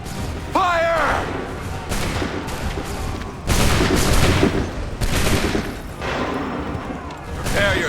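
Musket volleys at the Battle of Bunker Hill in Assassin's Creed 3 come as loud, crackling bursts of massed gunfire, several distinct rolling volleys in close succession, with shouted voices and battle noise between them.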